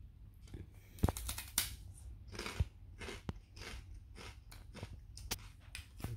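Sharp, crisp crunches come close up in an irregular rhythm, the sound of a dry cracker being bitten and chewed with no talking.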